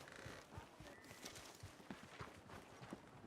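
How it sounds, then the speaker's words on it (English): Horse hooves clip-clop at a steady walking pace in the Red Dead Redemption 2 video game, a series of close, distinct thuds with faint background ambience and no talk. "Here's that horse."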